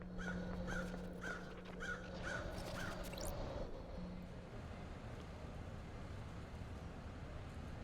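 Crows caw in the video game Paradise Killer: a quick, evenly spaced run of harsh caws opens over a steady ambient hum, then fades into a low, continuous wash.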